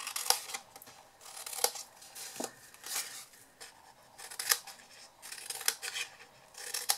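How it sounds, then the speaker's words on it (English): Scissors snipping wedges out of the four corners of a paper matchbox: a close, quiet series of short crisp cuts and paper rustles, irregularly spaced, with no talk. "And then we're just going to cut the wedges out of all the four corners here."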